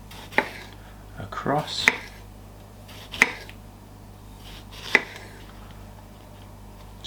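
A knife slices tomatoes on a cutting board, giving about five sharp, separate cuts spaced a second or two apart over a quiet kitchen hum, and a voice says a single word.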